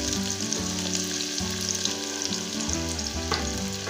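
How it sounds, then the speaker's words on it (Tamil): Large onions, ground to a paste, frying in hot oil, a loud close sizzle that runs throughout with intermittent stirring and no talking. "பெரிய வெங்காயம் செவக்க வணக்கிக்கலாம்"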